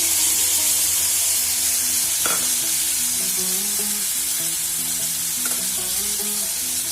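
Browned potato pieces sizzle loudly in a pan once a spice paste made with sour yogurt is added. A steady frying hiss runs throughout, with a few stirring knocks and no voices.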